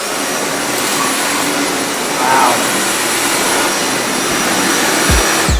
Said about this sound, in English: Now that's what I call a vacuum.